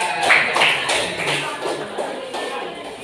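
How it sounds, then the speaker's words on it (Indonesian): Classmates clap for a presenting group in a classroom, a few uneven, close handclaps tapering off over a few seconds. "Tepuk tangan untuk kelompok 2"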